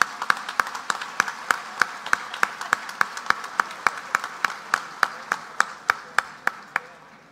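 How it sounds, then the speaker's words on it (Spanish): An audience at a coffee growers' committee and Tolima government event claps in a steady, slow, rhythmic beat, each clap sharp and distinct, continuing evenly for several seconds without talking. "Un aplauso para él."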